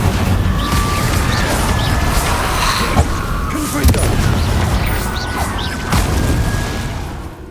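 Spell explosions from the Hogwarts Legacy video game burst repeatedly over dense, loud combat noise, with crashes and booms crowding together and no pause between them.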